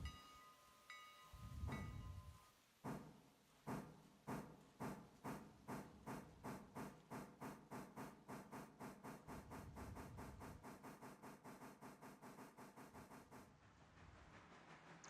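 A 22-car freight train in a train video game pulling away, its chuffing exhaust beats starting slow and spaced, then quickening into a rapid, even rhythm, loud and close with no talk.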